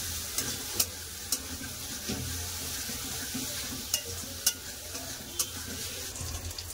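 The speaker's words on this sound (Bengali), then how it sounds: "কপিটা খুব ভালো করে কষে নেবো।" Cauliflower stir-fried in spice paste, destined for a potato and egg curry, sizzles steadily in the pan while a spatula scrapes and knocks against the metal in scattered sharp clicks. No one speaks.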